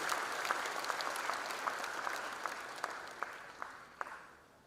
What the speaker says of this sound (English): Let's give a big applause to that great educationist.